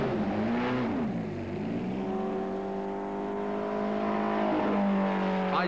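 A 1967 Lotus 49 racing car's engine fires up and revs, rising and falling in pitch with a strong harmonic snarl that swells again near the end, loud and close with no talk.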